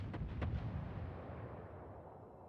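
A Yamato battleship salvo in World of Warships: heavy booming naval gunfire, a couple of sharp reports at the start that roll into a sustained low rumble and fade slowly.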